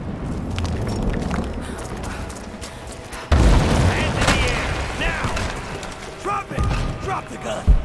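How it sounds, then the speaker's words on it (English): Gunfire from Rise of the Tomb Raider, a loud booming shot followed by a rapid burst of shots and metallic clatter, with game voices talking over the action. "We've got shots fired!"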